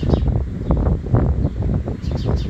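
Birds chirp outdoors on a bright day, with several short high tweets sitting over loud, steady wind rumble and rustling, and bursts of noise pressing on the microphone.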